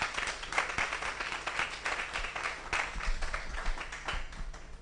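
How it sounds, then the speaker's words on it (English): Audience applause at a formal talk on women's empowerment and the role of the UN, a steady wash of many hands clapping that holds for about five seconds at moderate distance, fairly soft overall. "So I think that deserves a round of applause."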